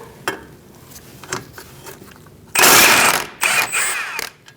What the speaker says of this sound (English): And now I'm going to remove this bolt.